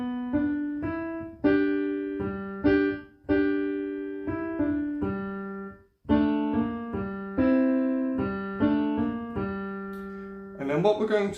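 A blues piano plays a rocking sequence of struck chords and bass notes in an uneven rhythm, each ringing and decaying, with a brief rolling flourish at the end and no talking.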